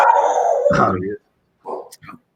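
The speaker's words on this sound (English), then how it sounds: "my dog's being a little bit loud" A dog barks and yips loudly nearby during a podcast conversation, its bursts separated by short pauses, with the speaker's voice carrying on around the barking.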